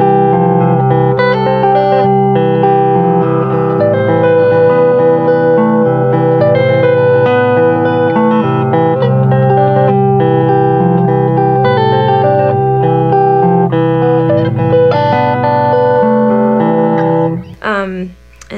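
Electric guitar playing an ending variation with pull-offs, a loud, sustained stream of distorted notes with effects and reverb, up close and continuous, cutting off abruptly near the end.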